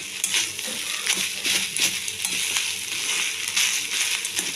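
Cauliflower mixture being stirred in a pan, a steady crackling sizzle with scraping and clinking spoon strokes against the metal, close and continuous.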